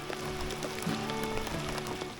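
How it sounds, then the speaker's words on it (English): Big cold raindrops falling and pattering faintly on a surface, a soft scattered tapping heard alone at low level during a boat trip. "These big raindrops are very cold."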